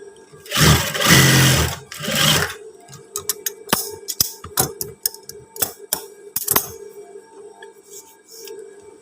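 A sewing machine stitches trouser fabric in short bursts of rapid mechanical ticking with brief pauses between runs, close and clear after a loud rushing noise at the start.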